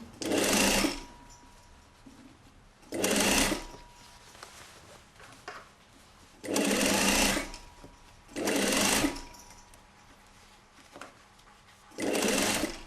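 A sewing machine stitches a corset in five short loud bursts of rapid whirring, each about a second long, separated by quiet pauses.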